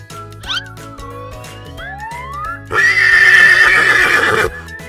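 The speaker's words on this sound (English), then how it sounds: "H is for horse." A horse neighs loudly with a long shrill whinny that rises and trembles for nearly two seconds, heard over a cheerful children's song.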